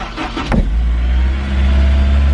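A car engine cranks and fires up after sitting unused for eight months, catching almost at once and settling into a loud, close, steady rumbling idle with no talking.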